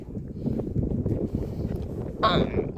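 Wind gusting on a mountain trail in Norway, a low rumbling buffet against the microphone that rises and falls under a voice.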